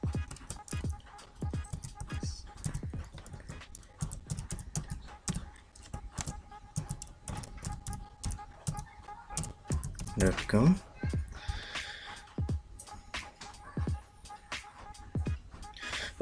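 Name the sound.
typing email ID on laptop keyboard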